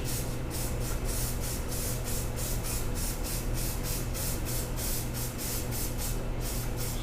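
An aerosol can of coating sprays in one long, steady, close hiss that covers the whole stretch, with faint rattly pulses running through it.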